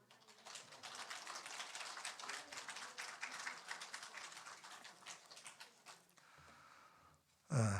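Church congregation applauding a blessing during a Sunday service, a steady wash of many hands clapping at moderate distance that tapers off before a voice begins.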